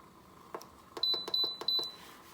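Pressure cooker used to cook multigrain rice, a few button clicks followed by three short high electronic beeps in quick succession, close and moderately quiet.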